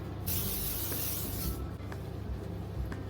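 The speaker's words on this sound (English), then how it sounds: "It's a sunscreen spray from Garnier." A steady aerosol hiss from a Garnier sunscreen spray runs for about a second and a half, then cuts off, leaving quiet room noise.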